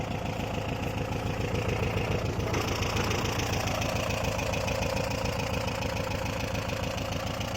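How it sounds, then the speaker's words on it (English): A Volkswagen Kombi campervan engine idles steadily nearby, a continuous low rumble with a fast, even ticking beat and no voices. "you can hear the engine runs quite nice"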